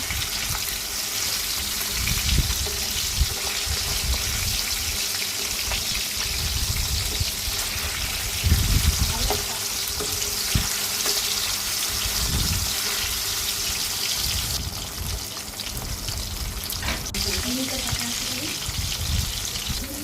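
Tilapia fish frying in oil on a stove, a continuous close sizzle with intermittent louder bursts and clatter as the pieces are moved, with a voice talking briefly over it.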